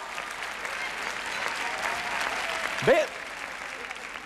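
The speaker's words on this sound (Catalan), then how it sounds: "aplaudim encara una mica més, que s'escalfin les mans a tots els que esteu omplint el teatre" A packed theatre audience at a quiz-show final keeps up a continuous wash of applause, moderately loud and evenly spread, with a brief spoken interjection standing out over it near the end.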